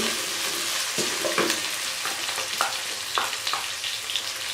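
Ginger-garlic paste, green chillies and garam masala sizzle and fry in a pan for chana pulao, a continuous close hiss broken by the scrapes and taps of stirring.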